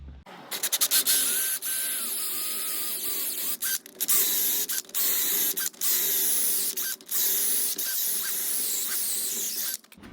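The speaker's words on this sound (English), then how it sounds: "I'm going to take this hole saw and cut out this rubber" A hole saw grinds steadily through rubber subframe bushings on an S14 with a 2JZ swap, a loud continuous whine broken by several brief stops and restarts.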